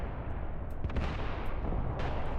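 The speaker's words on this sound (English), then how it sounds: "While the artillery still pounds away up here." Artillery fire in the war video game Graviteam Tactics, a continuous rumbling barrage with a few sharper thuds and cracks breaking through at a moderate distance, with no voices.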